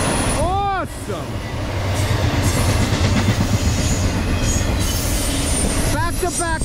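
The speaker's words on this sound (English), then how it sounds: "We just had a Ferromex locomotive go by on 268." A Ferromex freight locomotive rolls past close by, a loud continuous rumble of wheels and engine with squealing wheel tones at the start and end, under brief talk.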